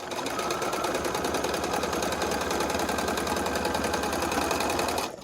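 A sewing machine stitching quilt pieces together, a rapid even mechanical chatter running steadily and close before stopping abruptly at the end.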